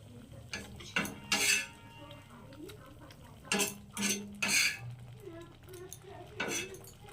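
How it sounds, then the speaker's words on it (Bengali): A spoon stirs fried egg into lentil dal in a metal pot, making bursts of loud clanking and scraping against the pot, separated by quieter pauses with faint sizzling. "এই ডালের সঙ্গে মিশিয়ে দিচ্ছি এই ডিম ভাজাটা"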